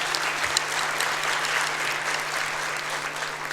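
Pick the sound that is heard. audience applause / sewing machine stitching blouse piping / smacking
audience applause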